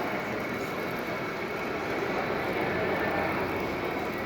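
A model snow-clearing train runs along a layout at a model train expo in an arena, producing a continuous whirring, rumbling drone that holds steady throughout against the busy hall's background.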